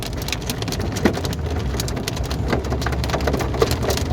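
Heavy rain pours steadily during a strong June thunderstorm, with hailstones falling among it, a dense continuous hiss with a few sharper impacts.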